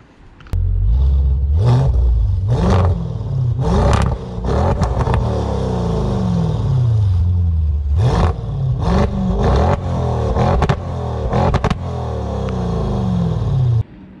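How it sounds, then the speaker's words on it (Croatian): An Audi RS7 with a full Milltek exhaust revs hard several times, each throaty exhaust roar rising and falling between a loud, rumbling idle, close and alone. "stavljen je Miltek od početka skroz do kraja i zvuk ovog automobila"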